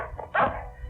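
A dog barks in a few short bursts, one loud bark in the middle and another at the end, with quieter yips before it, close by and with no talk.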